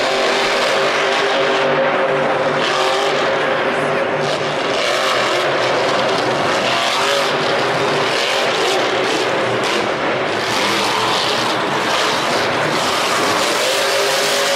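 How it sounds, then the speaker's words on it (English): A monster truck engine roars loudly at a Monster Jam show in Arlington, a continuous, powerful engine din with surges and crowd-filled arena noise throughout. "Man, that truck is just nice and loud."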